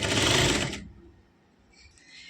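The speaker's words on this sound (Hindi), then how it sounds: "दोनों साइड के आसन की सिलाई लगाने के बाद यहाँ पर अब नेफे की सिलाई लगाना है।" A sewing machine stitches the waistband of a girl's suit, running in a fast, loud close-up whir for under a second before stopping abruptly, leaving near silence.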